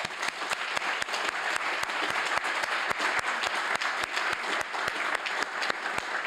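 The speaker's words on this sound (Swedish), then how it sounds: "Och då vill jag avsluta med en stor applåd för Katarina." An audience at a summer gathering applauds continuously, with dense, even clapping and some sharper individual claps standing out at a steady level throughout.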